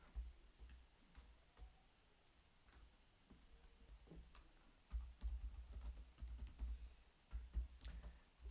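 Typing on a computer keyboard, close and fairly quiet: scattered single keystrokes at first, then a faster run of clicks in the second half, with no talking.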